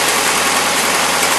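A 1977 Toyota Celica idles with its carburetor loading up, running rich with black smoke and a small exhaust leak, giving a loud, steady, close-up engine drone.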